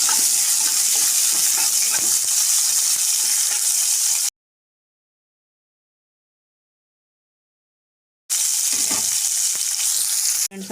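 Onions sizzle and fry in hot oil with green chillies for an egg kurma, a steady bright crackle that cuts out to silence midway and then returns.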